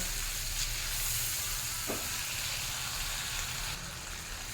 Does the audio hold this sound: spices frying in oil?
yes